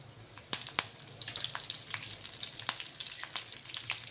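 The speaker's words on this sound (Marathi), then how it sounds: "मस्त अशी ढोकळ्यावर टाकायला फोडणी तयार करणार आहोत आपण" Curry leaves with cumin and mustard seeds sizzle in a spoonful of hot oil for a dhokla tempering, a steady close crackle broken by a few sharp pops.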